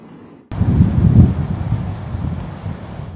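High wind gusts during a rainstorm, a sudden roaring rumble of wind buffeting the microphone that peaks early and then eases into a steady, slightly fluctuating rush.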